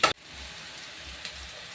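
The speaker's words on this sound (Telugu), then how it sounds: "మంచిగా ఫ్రై చేసుకోవాలి." Fenugreek leaves fry in hot oil with a soft, steady sizzle, opened by a brief sharp clatter and followed by faint stirring, no talking.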